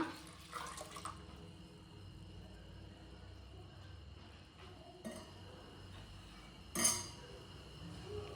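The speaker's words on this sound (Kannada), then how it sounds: "ಬೇಳೆ ಬೇಯೋದಕ್ಕೆ ನೀರು ಹಾಕ್ಕೊಳ್ಳೋಣ." Water pours into a pot of toor dal in a quiet kitchen, with a few soft clinks of utensils and a brief louder splash near the end.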